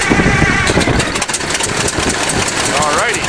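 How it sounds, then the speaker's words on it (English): An old 1953 bulldozer engine runs on gasoline, a loud, steady mechanical chug with knocking texture that fills the whole stretch while a person talks over it and wind gusts in the background. "Now he's running on gas."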